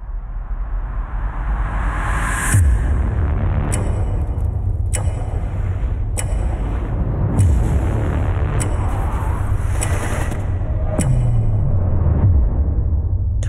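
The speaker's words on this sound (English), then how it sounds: "now I think there's only 2 stabs, and there's just 1 clock tick between every stab" Cinematic trailer music stabs for a Terminator-style trailer, about two heavy booming hits with sharp clock-like ticks spaced between them over a continuous dark rumbling bed, loud and close with no talk.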